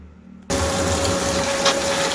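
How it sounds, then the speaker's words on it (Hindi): Washing machine filling with water during a service test, a sudden steady gush and hiss of running water that starts abruptly and pours on evenly, close and alone. "पानी इसलिए भर रहा है ताकि पता चले कि पानी निकल रहा है या नहीं निकल रहा।"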